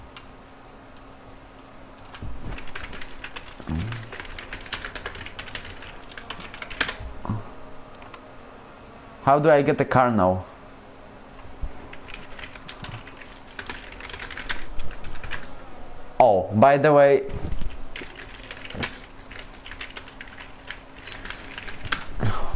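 Computer keyboard typing during a racing game's qualifying session, a steady patter of soft key clicks that pauses for brief bursts of speech.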